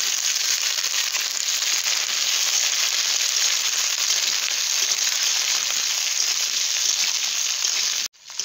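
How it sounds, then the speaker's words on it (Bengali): Onion, capsicum and green chilli frying in a pan, with a steady, dense sizzle and crackle that runs unbroken and loud until it cuts off abruptly near the end. "পেঁয়াজ আর ক্যাপসিকাম হালকা ভেজে নিলাম।"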